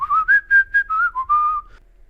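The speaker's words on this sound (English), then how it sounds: "Lion King whistle." A person whistles the Lion King tune, a short melodic phrase of about eight clear sustained notes, loud and close, alone with no talk.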